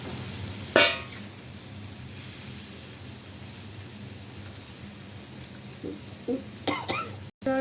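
Rohu fish pieces fry in a pan with a little water, a steady sizzle running throughout, then a few sharper crackles and bumps near the end.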